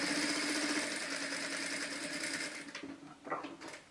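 A sewing machine stitching a bag seam, a fast steady mechanical whirr for over two seconds before slowing into short bursts of stitching.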